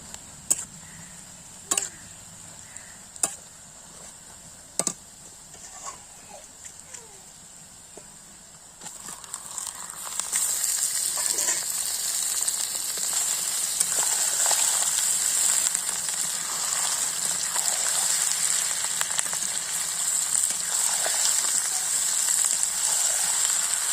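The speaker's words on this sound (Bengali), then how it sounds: "চিকেনের টুকরোগুলো একে একে আমি এর মধ্যে দিয়ে দেব পেঁয়াজটা লাল হয়ে গেছে এবার আমি মাংসটা অ্যাড করবো" Chicken pieces are dropped one at a time into browned onions: a few sharp ticks and taps at first, then a loud, steady sizzle of frying that rises and holds close by until the end.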